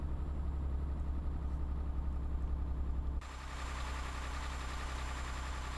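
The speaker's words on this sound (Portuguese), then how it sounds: "Mau funcionamento do motor, eu sei que o motor está danificado." Damaged truck engine in Euro Truck Simulator 2 droning steadily as the rig labors up a narrow, steep road, a constant low rumble that shifts tone partway through and carries on without voices.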